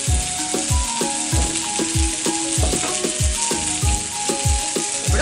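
Paneer tikka pieces fry in oil in a pan over medium-low flame, a constant loud sizzle punctuated by a regular series of soft knocks and clinks, with no talking.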